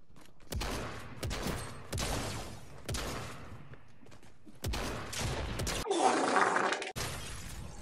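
Bursts of gunfire in the Fortnite video game, several sharp shots and short volleys with a shattering crash near the end, loud and close, without talking.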